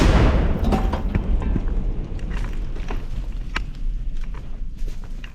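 Border guards' barrel artillery gun fires a single heavy shot, a loud broadband boom right at the start that decays into a long low rumble.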